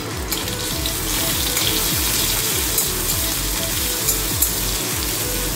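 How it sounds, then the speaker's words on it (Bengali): Cumin seeds and ginger sizzle in mustard oil in a pan, a continuous close hiss and crackle with soft rhythmic knocks and scrapes underneath, steady and without any speech. "এবার কড়াইতে সর্ষের তেল দিয়ে দিয়েছি, এবার এর মধ্যে দিয়ে দেবো হচ্ছে গোটা জিরে, দিয়ে দেবো গোটা জিরে ফোড়ন, আর দেবো হচ্ছে আদা।"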